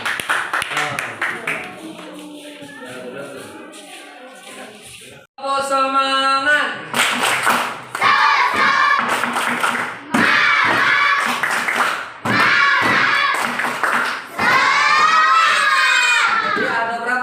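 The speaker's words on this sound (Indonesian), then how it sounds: "tepuk tangan." A group claps hands in a classroom-style session for several seconds, a dense patter that gives way to loud cheering and shouting voices.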